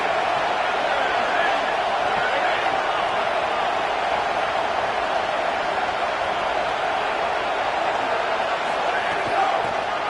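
Dense, steady roar of a stadium crowd at a Michigan versus OU football game, loud and sustained throughout with no breaks.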